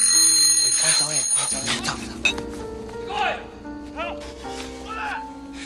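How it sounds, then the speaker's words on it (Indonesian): An alarm clock rings out in a film scene set in a Japanese prison camp in Sumatra, its repeated high ringing tones running beneath a narrator's voice. "Tiba-tiba alarm miliknya berbunyi, lalu membuatnya panik"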